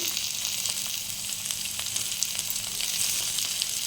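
Tomatoes sizzling in oil with onion in a wok for Yippee noodles, an even, close frying crackle that runs steadily throughout with small pops and no voices.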